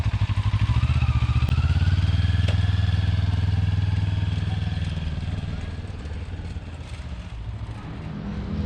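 A CF Moto NK 400 motorcycle is ridden away, its engine a loud, close, steady drone that fades slightly as it moves off and then swells again near the end.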